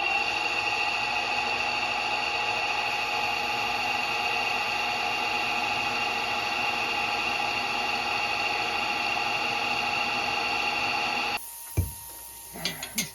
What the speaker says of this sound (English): Drill is doing really good, so I'm going to try to get a little bit more use out of it.